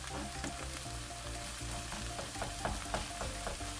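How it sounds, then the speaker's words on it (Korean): Minari (water dropwort) pancake batter frying in a generous layer of cooking oil in a preheated pan over medium-high heat, a dense, steady crackling sizzle with light crisp pops, close and loud, no voices. "예열된 팬에 식용유를 넉넉히 두르고 반죽을 넣은 후 넓고 얇게 펼쳐서 중강불에서 구워줍니다"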